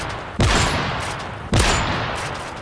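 Two loud gunshot bursts from the video game Call of Duty ring out about a second apart, each with a sharp onset and a long decaying tail, with no talking.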